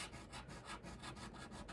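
An X-Acto knife saws along the edge of wallpaper in quick, faint, rhythmic back-and-forth rasping strokes, about eight in a row, close up with no talk.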